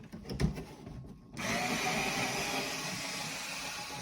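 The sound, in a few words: power tool removing screws from Vanagon AC housing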